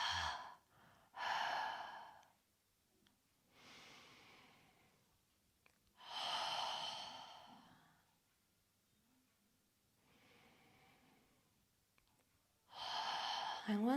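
Yoga breathing with a constricted throat, slow audible exhales through the nose alternating with quieter inhales, close and soft, with a few spoken instructions.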